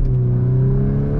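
A Volkswagen Golf R accelerates, heard from inside as a steady, smooth engine drone with a firm low hum and faint whir; brief, close and constant.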